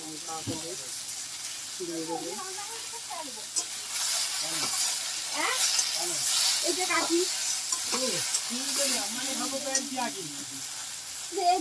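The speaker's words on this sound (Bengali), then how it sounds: "ভিজে আলুটাকে ভালো করে ভেজে নেবো" Soaked potatoes fry in hot oil with a steady close sizzle and hiss, joined by occasional stirring scrapes, while a voice talks over it throughout.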